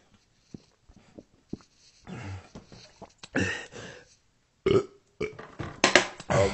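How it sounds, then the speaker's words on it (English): A run of burps, several short croaks at first and then longer, louder belches, close up with silences between them. "you burp just like a man"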